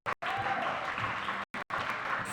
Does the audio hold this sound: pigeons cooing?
no